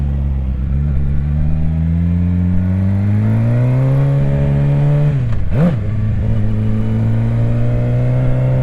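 A Suzuki GSX-R 750 motorcycle fitted with an SC Project exhaust revs loudly and up close, its engine note climbing steadily, then briefly blipping and dropping before settling back to a strong, throaty idle.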